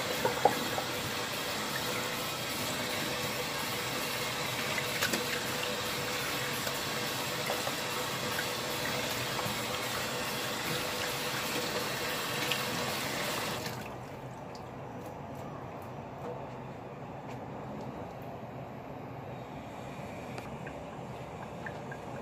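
Tap water runs steadily over raw tuna in a kitchen sink, a constant bright hiss for about fourteen seconds before it drops to a quieter trickle.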